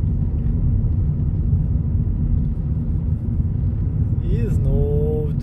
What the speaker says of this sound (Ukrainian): я зараз їду майже 40 км на годину